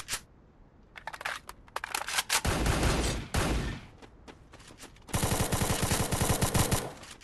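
Gunshots in the Free Fire battle royale video game: rapid bursts of automatic fire, sharp and loud, separated by short pauses, with a long sustained volley near the end and no talking.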